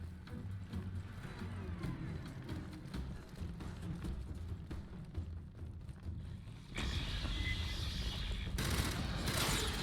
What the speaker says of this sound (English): The burst rifle so far feels really good.